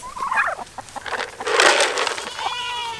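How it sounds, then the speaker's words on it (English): Several chickens clucking and squawking close by, a busy overlapping chatter of fowl with a louder burst in the middle. "Chickens, you can't reach that."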